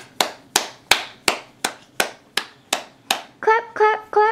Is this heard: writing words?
no